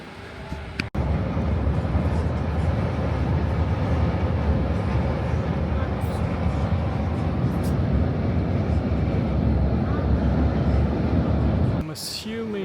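A large coach bus pulls in at a stop on a route to Copenhagen, its engine rumbling loud and steady with broad road noise throughout, a brief thump near the start and a sharp hiss near the end.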